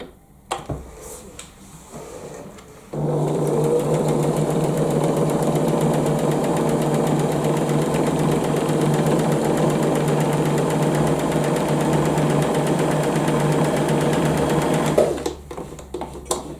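Sewing machine stitching a 1 centimetre seam on fabric for lavender bags, a steady close rapid whirring drone running unbroken for about twelve seconds, preceded and followed by quiet handling noises.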